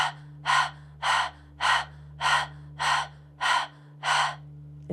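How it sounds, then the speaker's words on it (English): Rhythmic open-mouthed panting with the tongue out during a Kundalini yoga breathing exercise, eight evenly spaced breathy huffs close to the mic over a low steady hum, with no talking. "We stick your tongue out, begin panting."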